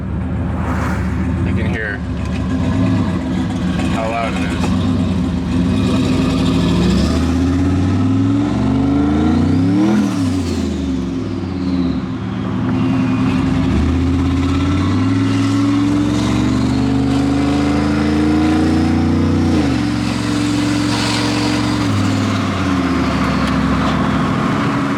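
A turbocharged Honda Accord engine revs loudly and continuously while driving, with repeated rising and falling pulls through the gears and a faint turbo whistle. A voice talks over the engine.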